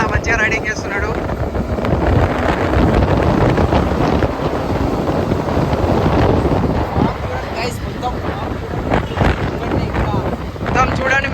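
Motorbike cruising along a road in cold, foggy wind, the engine drone half buried under loud, steady wind roar battering the microphone while a rider talks over it.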